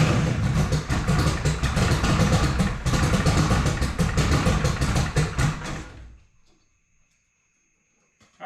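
An engine on its very first start, idling very low, rumbles loudly and steadily up close for about six seconds before cutting out to near silence.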